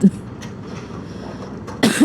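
A single short cough close by, with a second burst of harsh coughing near the end from a lingering two-week illness, over a low background rumble while motorcycling.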